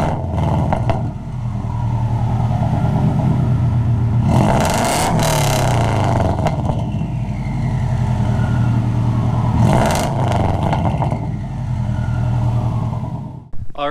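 A Subaru with its catalytic converter removed idles at about 700 RPM, its exhaust giving a loud, steady low rumble with a slightly uneven burble, close up and continuous, with two brief swells of louder noise and no talking.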